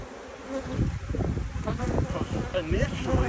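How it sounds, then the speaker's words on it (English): Honey bees being shaken off a hive frame during a hive split, a dense close buzzing swarm with rustling and knocks, as a voice speaks briefly over the humming. "I'm going to go ahead and shake these bees off of it into here."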